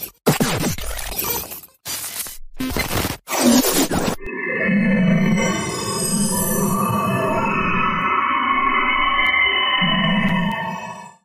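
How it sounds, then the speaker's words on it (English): Electromagnetic recording of the dwarf planet object MK2, rendered as loud chopped bursts of harsh noise, then a sustained eerie droning hum with layered tones and a faint high whine, steady and loud with no talk. "Just listen to the electromagnetic recordings."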